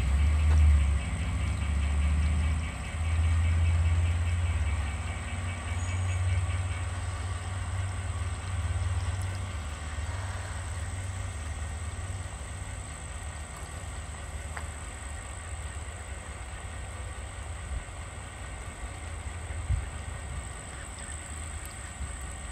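A model train on a layout eases forward to spot a bulkhead flatcar at the team track, producing a steady low motor rumble and track hum that runs unbroken and moderately loud throughout, with no talk.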